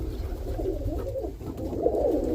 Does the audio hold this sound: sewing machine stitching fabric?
no